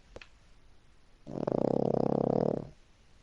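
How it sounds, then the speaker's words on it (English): A person snores once during an online multiplayer gaming session: a single loud, buzzy rasp of about a second and a half with rapid fluttering pulses, close to the mic, after brief quiet; the guy playing likens it to a bulldog. "Whoever's snoring, bro."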